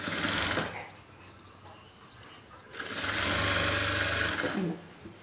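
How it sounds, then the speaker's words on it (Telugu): A sewing machine stitches the main cloth of a long boat-neck frock in two loud, fast, whirring runs separated by a quieter pause. "ఇప్పుడు మెయిన్ క్లాత్కి వేస్తున్న కుట్టు"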